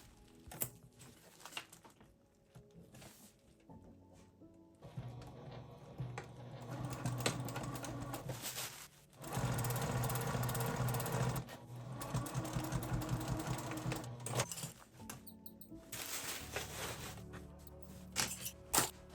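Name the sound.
sewing machine stitching clear vinyl tote bag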